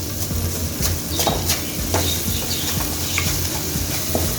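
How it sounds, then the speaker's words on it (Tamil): Onions with ginger-garlic paste are stirred in a pan for mutton chukka, with close metal scraping strokes knocking in an uneven rhythm over a steady sizzle of frying. "இந்த வெங்காயத்தில் எல்லாம் போட்டு நல்லா இப்படி கிளறி விட்டுறணும்"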